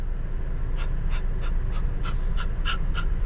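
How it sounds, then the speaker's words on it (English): A dog pants steadily and rhythmically, each quick breath audible against a constant low rumbling background, about ten pants in a few seconds. "look at the way dog is breathing."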